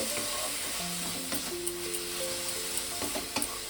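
Grated carrot filling for patisapta fries in a pan with a constant, fairly loud sizzle, and a few light scrapes and knocks come from the stirring spoon near the end.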